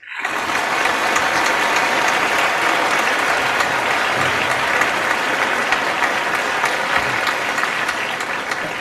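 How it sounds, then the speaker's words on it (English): A live audience claps loudly and evenly for several seconds after a sung performance at a talk show, with no voices heard over it. "Applause."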